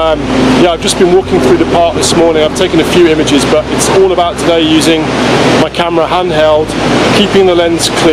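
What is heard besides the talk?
roar of Victoria Falls waterfall in Zimbabwe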